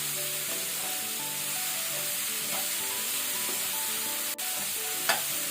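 Kantola (spiny gourd) frying in ghee in a pan, with a steady close sizzle and occasional stirring scrapes throughout, over faint tonal background sound.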